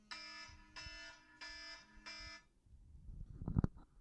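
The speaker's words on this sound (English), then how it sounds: "the timer went out" A kitchen timer alarm goes off with four loud, evenly spaced harmonic beeps, followed by close rustling and handling noise as it stops.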